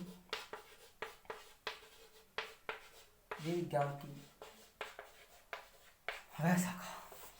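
Pen writing a definition on paper, a quiet series of short scratching strokes in an uneven rhythm, with a voice speaking in between.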